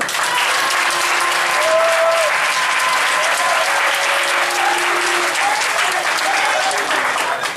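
A large crowd applauds steadily and loudly for a national party president at a political gathering, dense continuous clapping with faint cheering mixed in.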